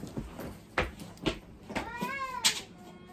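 A house cat meowing indoors, a few short sounds and knocks first, then a clear drawn-out meow near the end, close and moderately loud.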